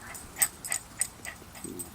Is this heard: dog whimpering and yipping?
yes